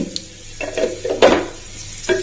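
Red chillies hit hot oil already holding mustard seeds for tempering, giving a soft, spitting sizzle broken by a few sharp spoon scrapes and clinks against the pan.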